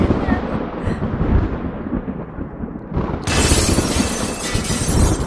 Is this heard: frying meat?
no